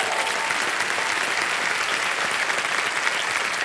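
A studio audience on a Hindi TV quiz show breaks into loud, sustained applause, a dense wash of clapping that stays even and unbroken from start to finish.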